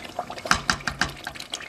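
A pot of dry tomato stew sauce bubbles on the stove, with quick irregular pops and plops close up and no talking.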